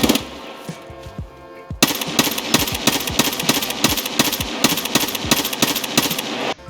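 An M4A1 rifle in Escape from Tarkov fires a sustained full-auto burst of rapid, evenly spaced loud shots. A quieter stretch comes first, then steady sharp reports continue to the end.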